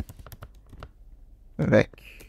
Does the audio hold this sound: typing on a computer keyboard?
yes